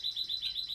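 A tiny parrot gives rapid, repeated high chirps in a quick rhythmic series, close and clear over a quiet room.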